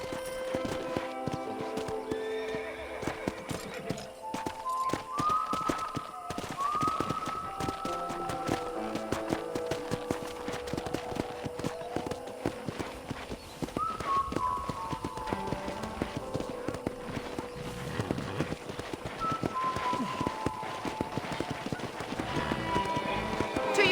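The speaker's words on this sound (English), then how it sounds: "I picked out a fine horse for you. Giddy up!" Horse hooves clop in a steady trotting rhythm for a long stretch in Red Dead Redemption, with occasional neighs and whinnies rising over the hoofbeats.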